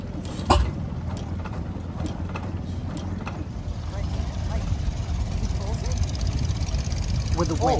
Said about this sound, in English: here we have an absolutely beautiful hit and miss engine that's so quiet and smooth